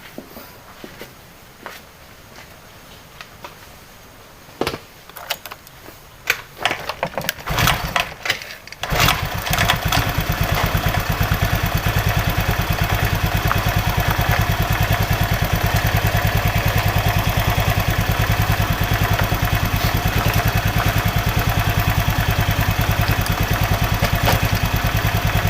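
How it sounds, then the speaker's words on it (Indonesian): A Honda Vario scooter engine is cranked with several short clattering bursts, catches at about nine seconds, and then settles into a steady, close, buzzing idle that runs to the end, with no talk. "Caranya kita hidupkan dulu mesin."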